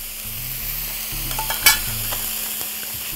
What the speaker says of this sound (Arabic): هناخد البصلة تقليبة سريعة كده، وبعد كده هنزل عليها بالمشروم اللي متقطع شرايح